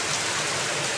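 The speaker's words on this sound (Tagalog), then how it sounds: "Kasi lakas ng ulan dito sa amin." Heavy rain pours down in a dense, constant roar outdoors in the Philippines, loud and unbroken with no voices.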